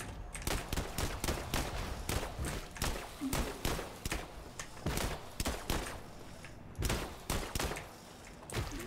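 Mini pistol firing Teflon rounds in the System Shock Remake video game: a rapid string of sharp gunshots, evenly spaced and fairly loud, with brief gaps, near and alone without talk.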